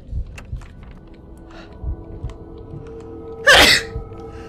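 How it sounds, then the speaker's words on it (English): A single loud sneeze bursts out mid-clip against a quiet, dim background with faint low thumps, heard during a horror dungeon game. "I'm about to sneeze too."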